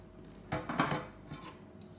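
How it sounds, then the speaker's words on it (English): Scissors snipping sewing thread while finishing a fabric flower brooch, a close metallic cut or two with a short clink, then quiet. "and cut my thread."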